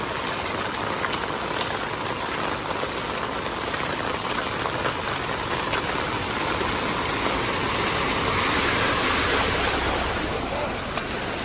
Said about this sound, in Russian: А еще и дождь пошел.